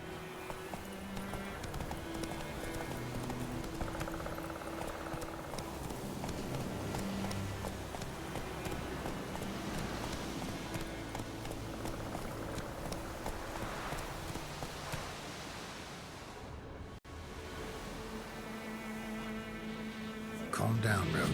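A horse gallops in Witcher 3: Wild Hunt, its rapid, rhythmic hoofbeats clopping steadily and close over a faint hum, with brief voice sounds near the end.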